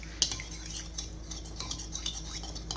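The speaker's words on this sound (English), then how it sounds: "I'm stirring till I don't have any lumps in it" A utensil stirs a sauce mixture for sweet and sour chicken in a bowl until smooth, making quick repeated clinks and scrapes in an irregular rhythm against a quiet background, close up with no speech.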